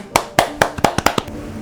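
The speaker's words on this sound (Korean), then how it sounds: "자, 박수." A small audience on a Korean Buddhist question-and-answer program gives a short burst of about eight sharp, close handclaps in quick succession, tapering off within two seconds.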